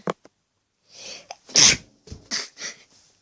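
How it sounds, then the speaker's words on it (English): A person sneezes loudly and close by indoors while sorting books: gasping breaths build up to one forceful burst, followed by a few short breathy aftershocks. "I'm going to sneeze."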